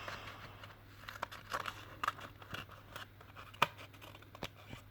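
Scissors snip paper while a paper airplane is made, giving a few sharp, separate cuts and crinkles at close range over a quiet background, with no talking.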